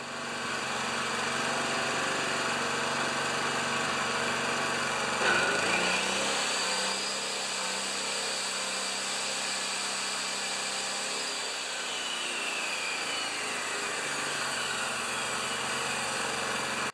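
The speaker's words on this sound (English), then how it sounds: "you squeeze the trigger on the saw and it jumps up to 3700 RPM" An old Honda-powered saw engine runs close and loud, revving high with the trigger squeezed, then drops back to a lower steady idle partway through.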